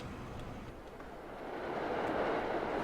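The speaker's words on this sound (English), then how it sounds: "Oh, look, there's another train coming." Train rolling past in the farming video game Sandy Bay Farm, a steady broadband rumble that swells slightly louder as it goes by, with no talking.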